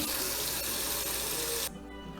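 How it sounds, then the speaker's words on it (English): Water runs from a tap into a kitchen sink being filled to wash morel mushrooms: a steady, close rushing stream that drops abruptly to a quieter flow near the end. "So we're going to fill up the sink with water"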